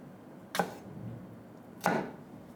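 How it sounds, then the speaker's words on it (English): Two sharp knife chops cut bright red, juicy tomatoes into big chunks on a board, crisp separate strikes about a second apart against a quiet kitchen background. "You cut your bright red, juicy tomatoes into big chunks"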